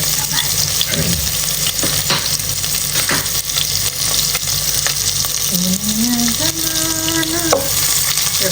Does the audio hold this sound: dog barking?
no